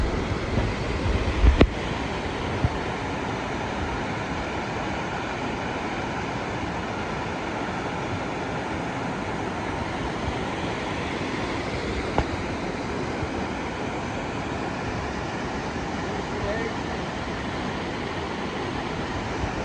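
A river rushes through a large gorge below a bridge in Vermont, heard as a steady broad roar of water with some wind, far off and continuous, with one sharp knock near the start.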